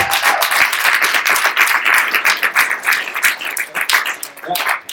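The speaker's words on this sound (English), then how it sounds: "give it a round, another round of applause" An audience gives a round of applause at a live business event, dense clapping running steadily through the whole stretch with a voice briefly heard over it.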